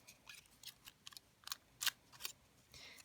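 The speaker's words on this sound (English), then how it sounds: "So let's cut another one with the hole punch." A hole punch cuts through fabric or paper in a quiet workshop. A run of soft, crisp snips and clicks comes at an irregular pace, close and faint, with no voices.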